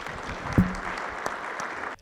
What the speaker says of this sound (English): Peter, a round of applause.